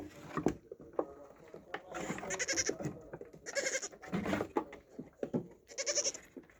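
Black Bengal goats bleat on a goat farm in winter, several separate loud cries rising in short bursts with quiet gaps and light wooden knocks between them.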